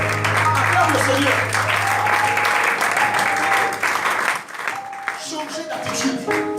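A church congregation applauds to acclaim the Lord, sustained dense clapping that stays loud before easing briefly near the end and swelling again, with voices mixed in underneath.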